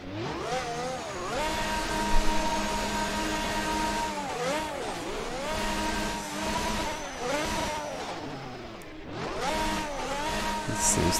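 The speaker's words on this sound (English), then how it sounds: "Let's do some quick celebratory donuts for celebrating a new fastest lap." An F1 car spinning donuts at Monza in a racing video game, its high-pitched engine revving up and down in repeated swells with no talk.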